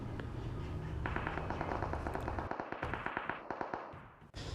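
Rapid gunfire in a solo-versus-squad shooter video game, a run of sharp evenly spaced shots that grows denser then stops abruptly, loud and close over a steady game background.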